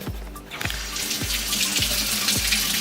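Tap water runs steadily into a kitchen sink while garlic is washed, a close, continuous splashing rush with a few soft knocks, no voices.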